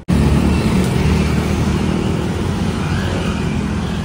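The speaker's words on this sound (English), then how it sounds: "Look at the traffic." Steady traffic roar at a busy Bangkok street crossing near a metro station, car and motorcycle engines blending into a continuous loud rumble with no single passing vehicle standing out.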